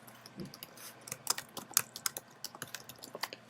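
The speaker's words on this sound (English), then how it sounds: "you're probably going to hear me typing" Rapid typing on a laptop keyboard, a close, steady patter of light key clicks with no talking.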